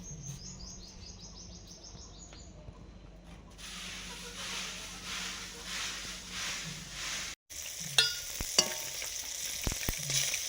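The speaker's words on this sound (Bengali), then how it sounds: "বেগুন ভাজা হয়ে গেছে" Eggplant slices fry in hot oil in a pan, a steady crackling sizzle that rises after a quieter start and continues with occasional sharper pops and utensil knocks.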